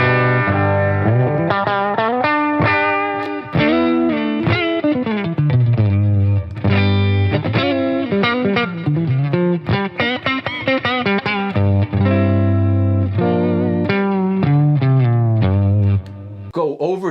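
Electric guitar through a Boss Katana 50 Gen 3 amp with boost, a loud, distorted lead of sustained notes and bends with short pauses between phrases, close and dry.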